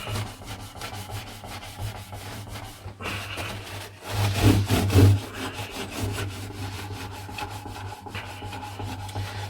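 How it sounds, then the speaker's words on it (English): Old 1970s acoustic guitar wood being rubbed down by hand, a steady close scratchy rubbing with repeated strokes, building to a louder burst of friction midway before settling back to even scraping. "give this a quick rub over."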